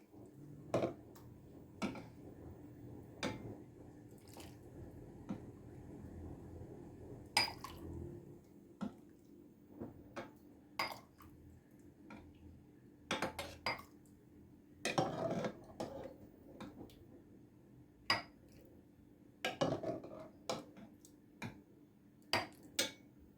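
Quiet kitchen sounds while Syrian-style chickpeas are served: scattered light clinks of a spoon against a pot and dishes, spaced irregularly over a low, faint background.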